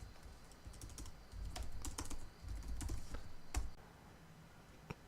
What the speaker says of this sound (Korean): 지금 키보드 위아래를 눌러서 이렇게 변경을 하고 있는데